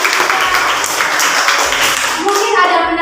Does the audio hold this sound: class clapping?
yes